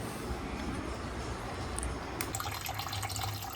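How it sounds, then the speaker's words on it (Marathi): Tap water runs steadily from a faucet while live crabs are rinsed and cleaned under it, a continuous broadband splash with a brighter, busier stream in the second half. "हे बघा व्यवस्थित नळावरती साफ करून घेते मम्मी"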